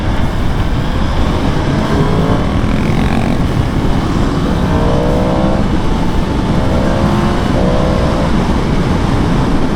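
A 2022 Yamaha MT-10 motorcycle rides through rush-hour traffic, its engine a steady close drone under broad road and wind noise, with a few brief rising tones in the second half.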